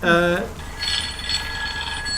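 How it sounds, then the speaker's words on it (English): A retro telephone rings with a bright, metallic bell tone, one short loud ring followed by a lingering shimmering decay, close and clear. "Oh no, my phone's ringing."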